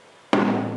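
A single high tom drum hit after tuning, with one sharp attack and a sustained, ringing tone that fades slowly, heard close and alone.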